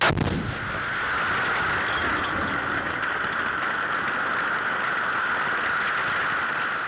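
Old artillery shells detonated remotely by electric impulse from 1,300 metres near Verdun: a sharp blast at the start, then a long sustained roaring rumble that carries on steadily without any talk.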